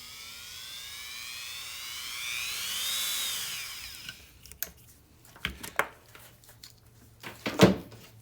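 Dremel rotary tool running at low speed through a Variac gives a high whirring whine that rises and falls and then stops, followed by a few scattered clicks and handling knocks.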